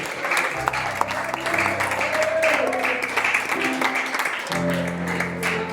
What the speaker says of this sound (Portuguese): Dá-te palmas, exalte e glorifica a ele.